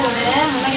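Food sizzling loudly as it is sautéed in a pan for a Tamil village-style non-veg feast, a dense continuous frying hiss close up with no pauses.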